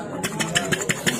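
Someone mimics a water pump motor with their voice, making a brief, rhythmic chugging hum with evenly spaced pulses, close and moderately loud.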